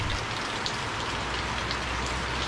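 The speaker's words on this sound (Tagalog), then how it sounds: "tuloy-tuloy pa rin yung ulan guys" Steady rain falls continuously on a roof and surroundings during a house build, a dense even hiss of drops with no speech, holding level throughout.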